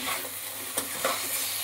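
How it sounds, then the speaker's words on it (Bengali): Crab-shaped potatoes stir-fried with spice paste in a pan, giving a soft continuous sizzle with a couple of brief scraping stirs, fairly quiet and heard without talk. "এবার মশলার সাথে কাঁকড়ার আলুটাকে ভালো করে কষিয়ে নিতে হবে।"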